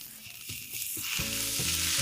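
Aburaage and komatsuna stems frying in a pan, a steady close sizzle that grows louder with light stirring scrapes.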